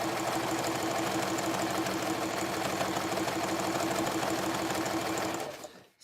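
A sewing machine stitches fabric strips into a jelly roll rag rug, running steadily and close for about five seconds with a fast mechanical whir and rhythmic needle chatter before stopping abruptly.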